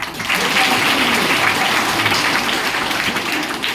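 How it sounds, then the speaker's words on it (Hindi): Students at a girls' middle school bicycle distribution event applaud the guests with dense, steady clapping from a large group, loud and sustained throughout. "आप लोग सब अतिथि लोगों के लिए ताली बजाए कई बार।"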